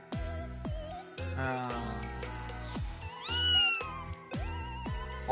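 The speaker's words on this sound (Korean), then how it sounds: "검은 고양이." Black cat character in the video game Blue Archive meowing, a string of close, loud, tonal meows and a rising yowl in a soft game voice, with some music underneath.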